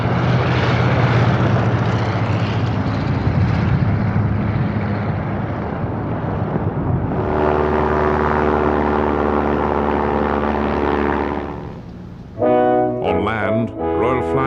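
A World War I era propeller airplane drones loud and continuous, its engine roar shifting in pitch partway through, then fades as tonal music comes in near the end.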